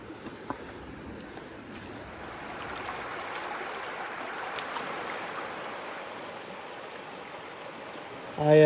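A small mountain creek in North Carolina rushes over little rapids in a steady, moderate wash of flowing water, swelling slightly midway, with a short burst of noise at the end.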